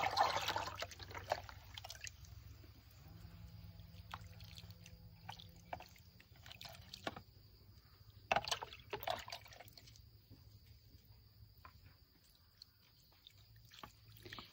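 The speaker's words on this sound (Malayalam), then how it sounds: "ഞാനിത് ഇതിൻ്റെ ചുവട്ടിലേക്ക് ഒഴിച്ചു കൊടുക്കുകയാണ്." Diluted liquid fertilizer is poured onto the base of a garden plant, giving a faint, soft trickle with scattered drips against a quiet background.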